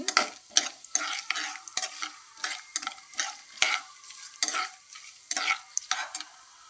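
Vegetables sizzling in a pan for vegetable pulao, with a steady crackle of frying and a regular series of scraping stirs and clinks of a utensil against the pan, close and alone.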